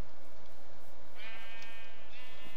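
Sheep in the video game Minecraft bleat clearly and close, a wavering cry rising midway through a steady ambient background, heard alone without talk.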